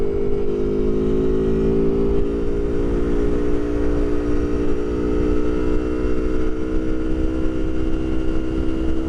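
An Aprilia Tuono Factory 1100 motorcycle exhaust, picked up through a helmet mic while riding, makes a steady, droning engine note under heavy wind rush, its pitch creeping slowly upward throughout.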